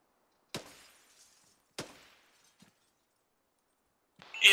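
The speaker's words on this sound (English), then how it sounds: "I hear the glass breaking." Glass shatters in the Arma 3 video game as gunfire hits windows: two sharp crashes about a second apart, each trailing off in falling shards, with a softer tinkle and a louder burst at the end.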